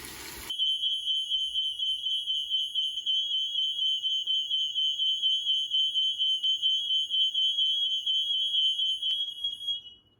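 A kitchen smoke alarm sounds while homemade bone broth stock is cooking, giving one steady, piercing high-pitched beep that runs unbroken for about nine seconds and stops abruptly, loud and close with nothing else heard.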